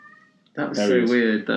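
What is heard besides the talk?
cat meowing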